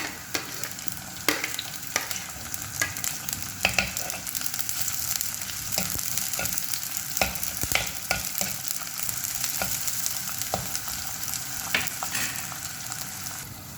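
Shallots sautéing with a pinch of salt in a pan for a dried fish and mango curry: a steady, close sizzle of frying with frequent light clinks and scrapes as a spoon stirs.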